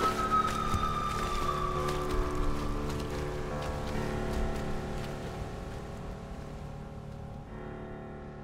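Gentle waves lap and wash under a steady rushing wind, a continuous, even wash of sound with a faint tonal hum beneath it that slowly eases toward the end, with no voices.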